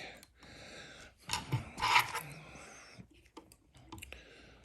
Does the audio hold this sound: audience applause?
no